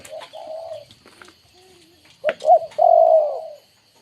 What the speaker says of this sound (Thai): นี่เจ้าสมคิดนกรักครับ ตัวรักได้ครับตัวนี้